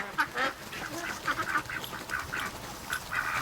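A Muscovy duck and another duck chasing each other, giving a run of close, raspy quacks and honking calls in quick irregular bursts.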